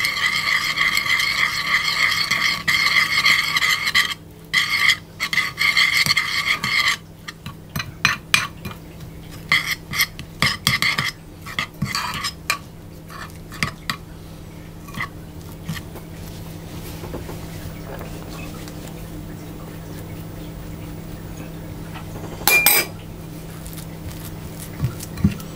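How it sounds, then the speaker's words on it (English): Ingredients being mixed into a paste in a bowl, with irregular scraping and clinking of a utensil against the bowl, busy at first and then sparser, plus a brief louder clatter near the end. "And then I'm going to mix that around into a paste."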